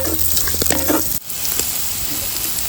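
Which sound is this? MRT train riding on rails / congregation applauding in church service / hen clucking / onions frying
onions frying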